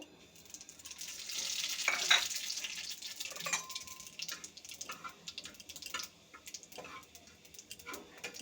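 Spices frying in oil in a pan for a bitter-gourd chachchari, a dry red chilli and spice powder among them, give a steady soft sizzle with scattered small clicks and scrapes; a faint voice is heard once or twice.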